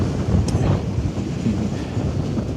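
Wind blows across the deck of the AIDAprima cruise ship as it arrives in Ålesund, Norway: a loud, steady rumbling roar with constant buffeting on the microphone and no voices.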